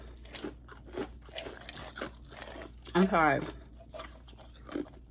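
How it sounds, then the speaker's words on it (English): Someone chews ice at home, with sharp crunching bites spread across the moment, including one loud crunch near the middle, mixed in with brief talking. "another bad habit that I developed while working from home is chewing ice"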